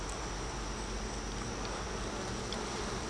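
Honeybees buzz thickly around a brood frame from a hive, a dense continuous hum close by that holds steady and unbroken.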